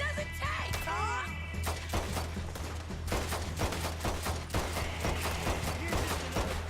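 A gunfight rages in the video game Red Dead Redemption 2 as a fusillade of rifle and pistol shots cracks in rapid, irregular bursts. The shooting is loud and sustained from start to finish.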